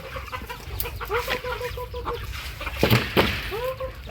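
Several chickens cluck and squawk close by in short bursts over a noisy outdoor background.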